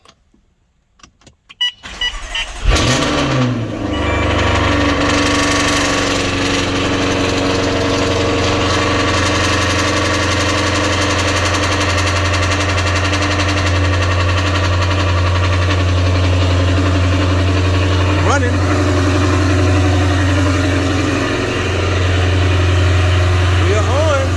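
A Jaguar F-Type engine, freshly fitted with a new crank pulley and belt, cranks and fires after a short quiet spell, then settles into a loud, steady idle with a low hum that carries on unbroken to the end.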